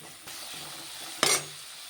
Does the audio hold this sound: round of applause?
no